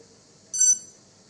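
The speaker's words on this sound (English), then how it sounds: "You hear two beep, it means that he's waiting now." Electronic speed controller sounds a calibration beep: a single short, high-pitched electronic tone, clear and alone against a quiet background.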